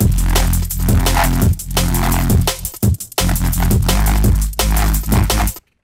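Aggressive, distorted neurofunk synth bass preset made in Phase Plant roars continuously, with morphing growls and short stutters before cutting off sharply.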